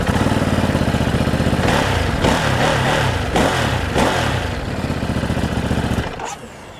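Close-up revving of a 2021 Ducati Monster engine through its factory exhaust: several sharp throttle blips over a rough idle, fading down toward the end.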